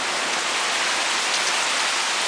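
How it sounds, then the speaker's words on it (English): Heavy rain pours steadily during a severe thunderstorm, a dense, even hiss of drops drumming on surfaces close by, with no voices over it. "You see the rain now, right?"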